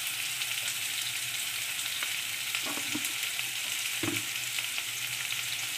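Pieces of raw mango sauté with turmeric in a hot pan, giving a steady, close sizzle with a couple of brief scraping stirs and no talking.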